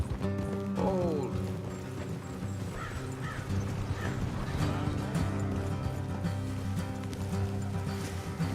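Horse hooves clop at an irregular walking pace amid outdoor noise, with a bird cawing and people talking now and then.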